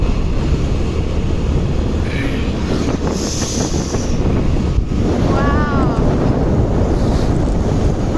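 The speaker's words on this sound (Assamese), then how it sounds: "ইমানেই বতাহ।" Strong wind at Nimati Ghat buffets the microphone in a continuous loud roar, with a voice briefly heard under the gusts.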